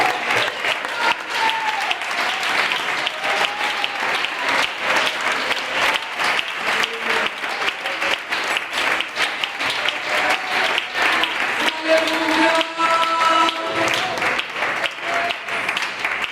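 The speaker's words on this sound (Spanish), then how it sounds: "Denle ese aplauso al Señor." A church congregation claps in praise to the Lord during a sermon on worship, a long steady wash of applause with faint voices and a few tones rising through it.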